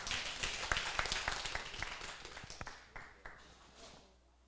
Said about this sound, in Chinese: 请掌声欢迎他